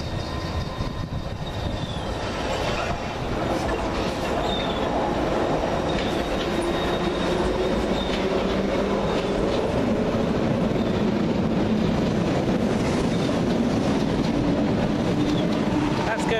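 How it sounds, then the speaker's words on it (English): A London Underground Piccadilly line train passes through Stamford Brook, a loud continuous rumble with rail clatter and rising motor whine lasting the whole span, close by, with someone talking over it. "Watch out, here comes some more Piccadilly stock."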